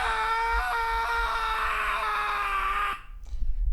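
A scream sound effect plays from a soundboard, a loud sustained harmonic shriek that is abruptly cut off after about three seconds, leaving faint room noise.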